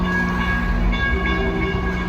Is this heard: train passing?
yes